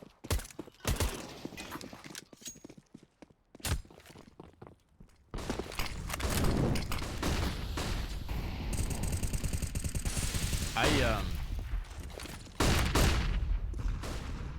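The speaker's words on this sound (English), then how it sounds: "Oh, the nades." Grenades and gunfire in a Counter-Strike match on the Mirage map: sharp, loud cracks and bursts, then a sustained roar of explosions and shots, with footsteps scattered between.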